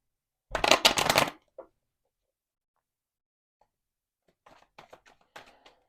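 Tarot cards being shuffled, a close riffling flutter lasting under a second, then quiet, followed by a few soft scattered card taps and flicks.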